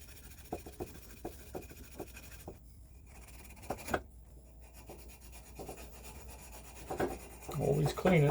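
Copper pipe being rubbed clean with an abrasive before soldering an outdoor spigot: a series of short, quiet scrubbing strokes in a steady rhythm, followed by softer handling noises and a louder rustle at the end; no talking.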